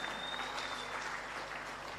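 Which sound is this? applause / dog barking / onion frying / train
applause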